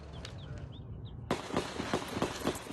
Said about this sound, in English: The chilling sound of a barrage of gunfire captured in this cell phone video.